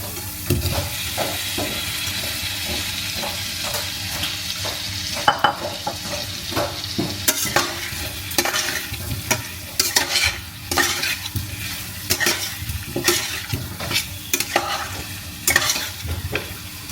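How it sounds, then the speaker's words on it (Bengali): Kohlrabi and potatoes fry with ground spices, garam masala, cumin and coriander powder in a pan, giving a steady close sizzle punctuated by repeated scraping stirs of a spatula throughout. "মশলার সাথে আর একটু ওলকপি আর আলু একটু ভাজি দেবো।"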